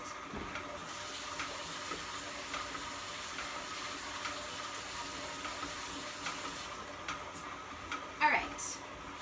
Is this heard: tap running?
yes